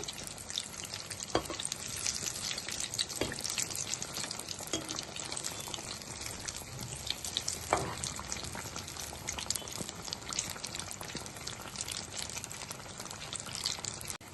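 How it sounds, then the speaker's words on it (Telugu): Egg bajji fry in hot oil with a steady, crackling sizzle while the fritters are turned, bubbling continuously close by with occasional soft scrapes. "ఇలా తిప్పుకోవాలి ఈ బజ్జీని."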